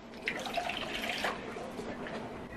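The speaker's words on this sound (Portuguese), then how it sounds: "Aí eu vou colocar 200 ml de água sanitária." Household bleach is poured into a plastic measuring container, a soft trickling splash that is fairly faint and runs steadily, with light spattering throughout.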